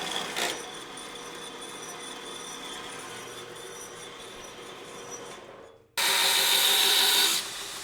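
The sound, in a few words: drilling a hole in a forged dragon head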